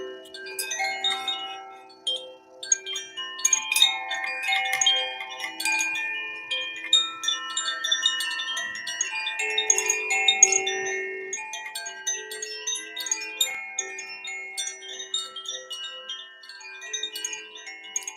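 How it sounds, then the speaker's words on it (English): An earth chime rings in a quiet sound bath, its bright metallic tones struck again and again in a loose, drifting pattern, with overlapping notes left to shimmer and fade, near and alone. "Then I'm going to bring in the other chime, the earth chime"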